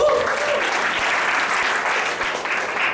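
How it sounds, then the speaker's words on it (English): Audience at a business presentation applauding themselves, a dense, steady wash of many hands clapping close and loud throughout, with no voices over it. "give yourself a round of applause"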